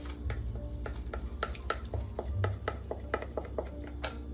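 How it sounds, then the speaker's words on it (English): Shrimp are folded back into a thick Cajun cream sauce in a pan, with repeated close clinks and scrapes of a utensil against the pan and a faint sizzle underneath. "We fold the shrimp back in."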